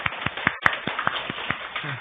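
A church congregation claps in a quick, steady run of loud claps, heard alone and close up without talking over them.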